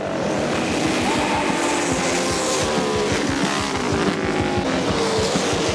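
Cyclecraft Yamaha racing snowmobiles roar around an ice race track at the Antigo CWIRA Ice Race, with a continuous loud, close engine drone, rising and falling revs and no voices.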